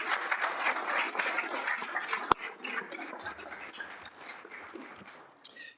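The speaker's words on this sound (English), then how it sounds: "If you could join me in a round of applause for all of those folks" Audience at a school board meeting gives a round of applause for retiring staff, moderately distant clapping that starts full and gradually thins and fades, with a sharp knock partway through.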